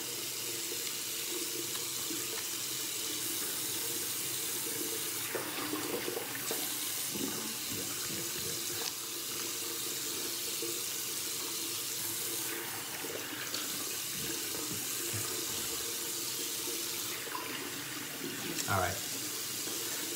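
Tap water runs steadily into a sink while a face is rinsed after a shave, a close continuous hiss broken by splashes and brief interruptions, with some low voice in places.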